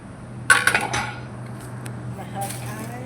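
Plates and dishes clinking as they are set out for guests, a sharp clatter followed by a few lighter knocks and rattles, then quieter handling under a faint steady hum in a home kitchen.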